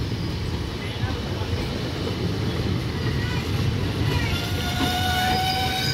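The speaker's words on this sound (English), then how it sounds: "Up Howrah Joynagar Express is moving towards Bandel Rly Junction." The Up Howrah–Joynagar Express rumbles steadily past near Bandel Railway Junction, a continuous loud roar of wheels and carriages with some squeal and hiss throughout.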